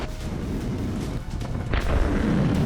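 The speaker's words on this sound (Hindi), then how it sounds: "धमाका इतना जबरदस्त कि मानो पूरा शहर हिल" A heavy, sustained low rumble of massive bombing explosions in a war zone between Russia and Ukraine, dense and loud throughout, with a stronger booming surge near the end and no voices.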